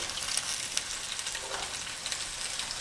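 Salmon searing in a hot pan, a steady close sizzle with a few faint clinks, no talking.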